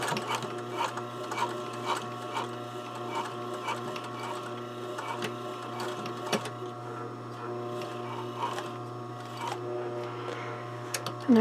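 A domestic sewing machine stitches in the ditch along a neck facing, with its needle set to centre. It makes a steady, close mechanical whirr with rapid rhythmic ticking and clicks, running continuously and alone without any talk.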